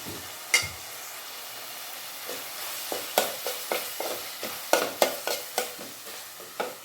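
Sambar powder is stirred into softened tomatoes in a pan, a low frying hiss beneath a run of sharp spoon scrapes and taps that grow more frequent and regular toward the end, no speech.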